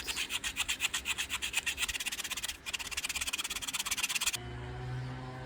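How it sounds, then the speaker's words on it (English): A handmade slingshot is sanded by hand after filing, with fast, regular back-and-forth rasping strokes, close and steady for about four seconds before they stop, leaving a low hum. "So this is how it is after the file, and now I can sand it."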